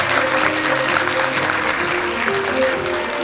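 Steady applause from a crowd of parents and guests at a school graduation ceremony, continuous and fairly loud throughout, with a faint murmur of voices underneath.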